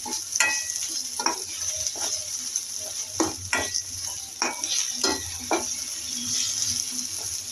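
Sizzling in a pan as onions and curry leaves are sautéed for idli kurma, with intermittent stirring and scraping strokes, a steady frying hiss underneath, close and moderately loud, no voices.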